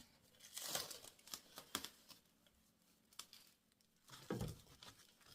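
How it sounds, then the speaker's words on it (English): Plastic saran wrap and masking tape crinkle and tear during pattern making for a doll top, in a few faint, close bursts with quiet gaps between them. "I just use saran wrap and masking tape."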